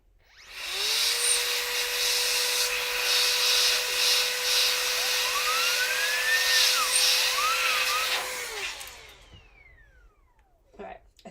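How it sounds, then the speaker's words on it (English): A small handheld blower runs steadily, blasting dust out of the fan inside a Glowforge laser cutter, a loud continuous whine with shifting pitch that cuts off after about eight seconds, leaving a faint tail. "I'm going to take my little blower again. And I'm going to blow this little fan out."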